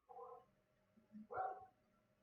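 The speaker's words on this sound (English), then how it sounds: "Sorry about my dog." A dog barks twice, a short burst and then a louder one a second later, with quiet gaps between.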